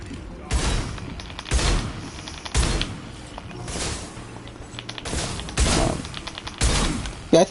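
Shotgun fire in the video game Mass Effect 2, six heavy booming blasts at roughly one-second intervals, loud and close, with someone talking softly in between.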